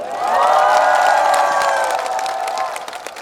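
Large outdoor crowd at a Korean street-naming ceremony for a singer, cheering and shouting loudly with a sustained roar of voices over applause that swells then slowly fades.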